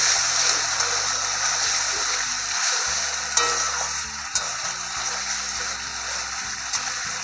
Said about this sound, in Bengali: এবার আমি দিয়ে দেবো ভেজে রাখা আলু আর সামান্য একটু জল দিয়ে আমি ভালোভাবে এবার কষিয়ে নেব